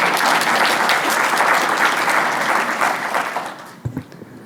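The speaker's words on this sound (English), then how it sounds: "Let's give them a round of applause" An audience at a housing and support services forum gives a round of applause, a full, even burst of many hands that fades out near the end, followed by a few faint knocks.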